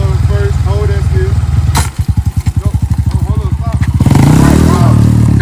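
Honda CRF150 dirt bike engine idling and then revving, with a rapid pulsing throb that picks up and rises toward the end, close and loud, while voices talk over it throughout.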